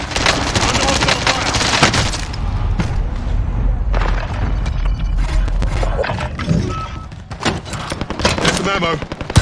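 Automatic and explosive gunfire in Call of Duty Modern Warfare: Warzone during a Payload match, loud dense bursts and booms nearly nonstop, with brief quieter gaps and game radio voices mixed in.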